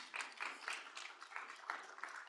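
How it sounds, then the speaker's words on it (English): An audience at a transport forum's closing plenary gives a round of applause, heard as steady, dense clapping that stays faint and distant throughout, with no voices over it. "Yes, a round of applause"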